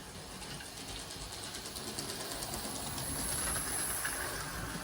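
A Hornby King Class model locomotive runs around its track with a faint, steady mechanical whir and soft rhythmic clicking of wheels over rail joints, quiet and continuous throughout.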